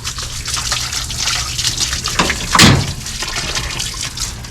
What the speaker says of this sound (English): I'm just gonna spray everything down here